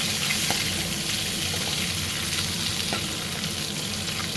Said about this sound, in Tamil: இந்த வெங்காயம் நல்லா வதங்கிடுச்சு